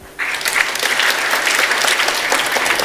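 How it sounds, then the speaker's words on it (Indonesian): A congregation breaks into loud applause during a Tuesday Bible church service, clapping starting abruptly and continuing densely and evenly close by. "Tepuk tangan."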